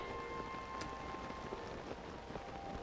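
Steady rain in a Zelda: Tears of the Kingdom game world, a dense even hiss of falling drops with a faint tonal hum beneath, continuous and fairly quiet with no talking.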